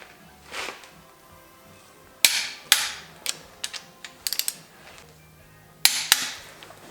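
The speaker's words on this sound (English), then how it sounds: "So I'm going to crank my torque wrench up." A torque wrench clicks sharply several times as Ford 302 cylinder head bolts are tightened to 70 foot-pounds, with crisp clicks in irregular clusters and quiet gaps between them.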